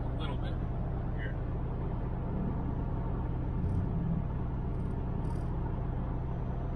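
A car's engine rumbles steadily while driving in third gear, a low continuous drone with road noise filling the whole stretch at moderate volume, and faint voices briefly audible beneath it.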